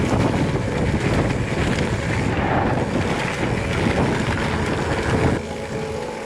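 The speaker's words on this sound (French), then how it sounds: "C'est le vent surtout aussi." Strong wind roaring steadily across the microphone on a grey day during a 100 km mountain bike raid, loud and continuous throughout, with no talking.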